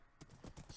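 Horse hooves in the video game Dalania clip-clopping in a quick, even series of soft thuds, faint and close, with no speech over them.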